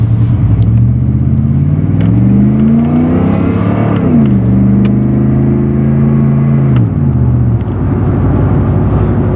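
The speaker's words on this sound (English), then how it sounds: "I was gonna do a good old-fashioned goose the throttle" A car with 170,000 miles on it revs up as the throttle is goosed, the engine note climbing, holding, then dropping back to idle, loud and close to the microphone.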